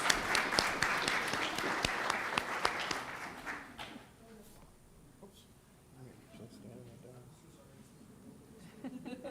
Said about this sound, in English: let's give a round of applause to these children here